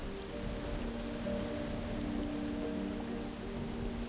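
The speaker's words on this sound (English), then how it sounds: "The rain drums on the deck, but the boat seems to be drifting in the right direction." Rain drumming on a boat deck in the Seers Isle video game, a soft, steady patter that continues evenly throughout with a low background hum and no talking.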